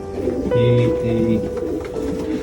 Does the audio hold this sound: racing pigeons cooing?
yes